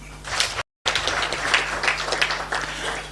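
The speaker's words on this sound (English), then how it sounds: "A clap for him." Audience applause at a launch event honouring a speaker who has just finished, a steady spread of clapping with a brief dropout partway through and a low hum beneath.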